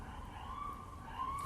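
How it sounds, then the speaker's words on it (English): A faint siren wails in the distance, its pitch sliding slowly up and down beneath a quiet background. "as that siren just wails on here"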